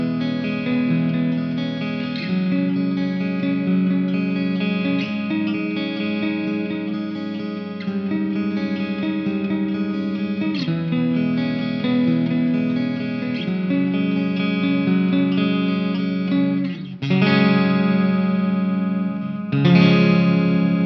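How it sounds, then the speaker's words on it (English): An electric guitar on a clean tone through a Donner Arena 2000 effects unit plays ringing, sustained chords with a shimmering, chorus-like sheen for about twenty seconds, with fresh strums near the end and no talking. "we're going to move over to the clean tone, which again sounds like this"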